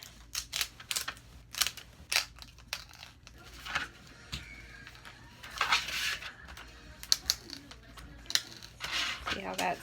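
An infusible ink transfer sheet slowly peeled away around a cut image, giving intermittent crinkling and papery ripping bursts, close and moderately quiet, with a person speaking between the sounds.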